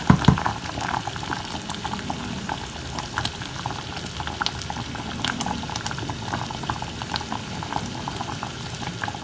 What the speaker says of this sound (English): So you want to rapid boil it for about 5 minutes.